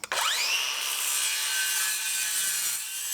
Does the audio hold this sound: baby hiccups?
no